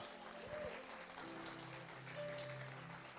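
A church congregation applauds together, a soft, steady patter of clapping heard from a distance for a few seconds, with faint tones ringing in the background.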